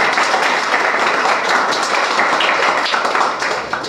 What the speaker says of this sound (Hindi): सुनो, एक बार इनके जोरदार ताली बजाओ जेडेक मलिक सर।